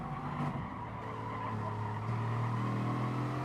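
Race cars braking late into a corner in GT Sport, among them a Bugatti Veyron, with tires squealing and skidding steadily over a droning engine roar, moderately loud and without talk.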